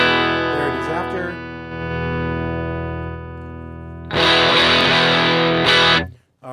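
Electric guitar run through an effects pedal into a NUX amp, sustained chords ringing with a thick processed tone that swells louder and brighter midway before cutting off near the end, with no talk.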